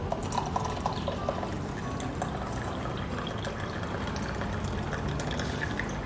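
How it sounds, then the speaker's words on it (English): Coffee being poured into a cup at home, a steady continuous liquid trickle heard close by for several seconds with no talking. "I'm just gonna pour my coffee"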